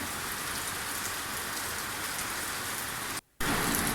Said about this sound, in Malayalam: അങ്ങനെ മഴ കണ്ടുകൊണ്ടിരിക്കുകയാണ്.